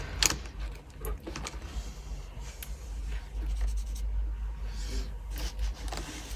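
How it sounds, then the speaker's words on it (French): A pen or marker colours in boxes on a paper 52-week savings challenge chart, giving soft, continuous scratchy strokes with a few sharper taps, close and quiet. "Je vais venir colorier ce qui me reste."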